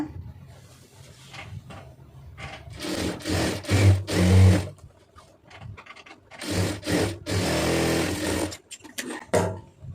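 A sewing machine stitches along the folded edge of a blouse lining in several short mechanical runs, rising and falling with pauses between bursts.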